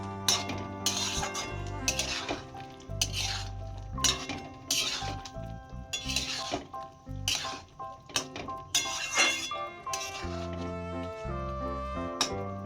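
Cauliflower tossed with black pepper powder in a pan for cauliflower manchurian, a string of metallic spoon clinks and scrapes against the pan in uneven bursts, close and moderately loud.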